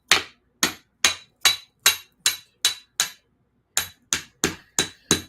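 Metal hammer blows on the back of a meat cleaver used for chopping chicken and goat bones: a dozen sharp, ringing strikes in a steady rhythm, one brief pause midway, each clang decaying quickly, close and loud.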